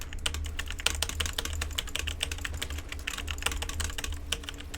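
Steady typing on a computer keyboard with a broken key switch, close and continuous, quick clicky keystrokes in an irregular rhythm with no talking.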